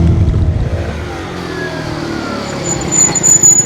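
A Jinlun JL50QT-5 50cc Chinese scooter engine drones while riding, a loud buzzing hum with wind rumble, dipping briefly then revving up again near the end.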